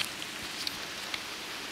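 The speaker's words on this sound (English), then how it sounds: "it's raining." Cold rain falls at a small lake in upstate New York, a soft continuous patter with a few distinct drop taps, fairly quiet and without voices.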